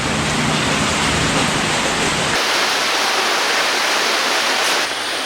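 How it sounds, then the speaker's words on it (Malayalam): Heavy evening rain pours steadily onto a backwater canal in Kumarakom, a dense, loud, even hiss that runs continuously with no voices. "സമയം സന്ധ്യയായപ്പോഴത്തേക്കും നല്ല അടിപൊളി മഴ പെയ്യുന്നുണ്ട്"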